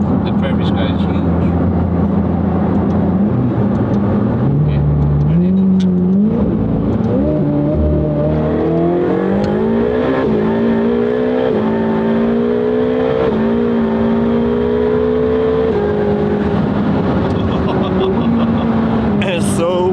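Turbocharged sports car engine pulling up through the revs on open flat prairie road, a smooth rising drone with gear changes, heard from inside the cabin while people talk over it.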